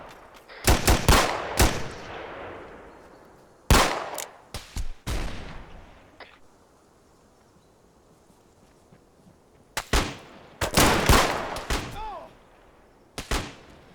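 Gunfire in the Arma 3 military game: sharp broadband shot bursts in short clusters, several loud near volleys early, a pause with faint distant noise, then more rapid bursts toward the end.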